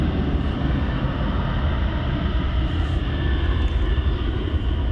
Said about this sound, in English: Let's see if we can get a little better look at the Cathay plane as it gets close to us.